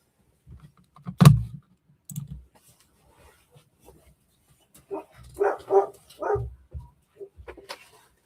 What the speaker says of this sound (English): I need to go let my dogs in because they're going to drive me nuts otherwise